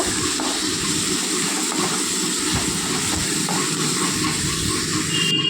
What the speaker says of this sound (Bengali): লঙ্কার গুঁড়ো, জিরে ধনের গুঁড়ো দিয়ে দেব। মশলাটা ভালো করে কষিয়ে নেব।